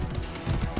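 Horse hooves clip-clopping in the medieval combat game Mordhau, a quick run of close, low thuds over a dense background wash.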